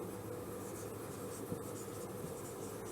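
Someone writes on a board during a finance class, making quiet, continuous scratchy strokes that carry on softly without any speech.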